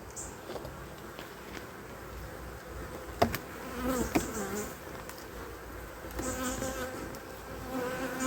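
Honeybees drone steadily around a hive frame packed with nectar, honey and pollen stores on an autumn day, a dense close buzz with a few sharper individual passes and occasional louder swells.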